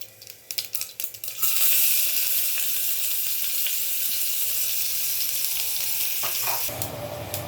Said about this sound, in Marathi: हिंग घालते आणि कांदा घालून परतून घेऊया।